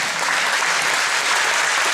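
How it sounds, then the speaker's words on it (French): An audience at a martial arts belt ceremony claps continuously, a dense and fairly loud indoor applause that holds steady for the whole stretch. "on peut l'applaudir quand même"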